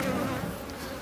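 Dense, steady buzzing of many honeybees working a hive by day, a continuous close drone that fills the whole moment with no voices over it.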